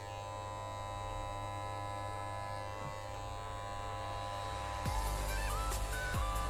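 An electric shaver buzzes steadily while shaving good-quality fake fur on a fennec fox fursuit, a constant close hum with a slight brightening and faint scratchy texture near the end.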